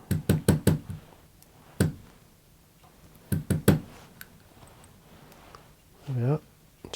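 A fly-tier's hair stacker is rapped on a desk in two quick series of four or five sharp knocks, with a single knock between them. The close, hollow taps come under occasional speech.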